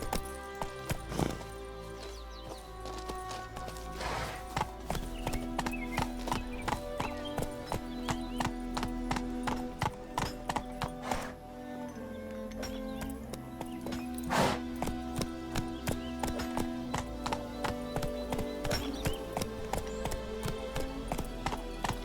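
Roach, a horse in The Witcher 3: Wild Hunt, galloping at a steady, rapid rhythm of hoofbeats, loud and close throughout, with game music or ambience underneath and a brief quieter stretch midway.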